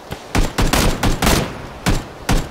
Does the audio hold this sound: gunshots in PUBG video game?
yes